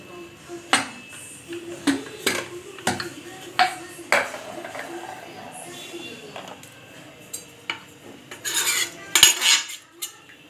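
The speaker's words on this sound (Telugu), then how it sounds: "కుక్కర్ మూత." Metal clinks and clatters as a pressure cooker lid is handled on a stove after cooking, with a string of sharp, close knocks and a brighter rattling burst near the end.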